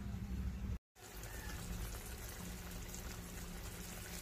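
Liquid boiling in a cooking pot for spicy buttered garlic chicken, a steady close bubbling hiss with a brief dropout near the start.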